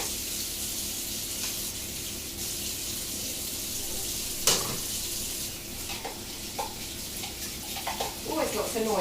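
A kitchen water tap running during home baking of blueberry muffins, a steady, moderately loud rush that fills the whole stretch, with a few clinks and small handling knocks over it.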